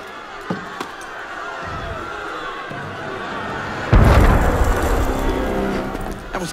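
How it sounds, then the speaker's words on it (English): A single heavy cannon blast in the video game Assassin's Creed Unity, a loud, close boom that breaks over a restless background murmur and then rumbles on. "That was cannon fire."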